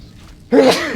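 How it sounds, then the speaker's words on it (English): A single abrupt sneeze bursts out after a moment of near silence, loud and close, trailing off into a voiced exhale. "Sneeze as well. I couldn't stop that from coming."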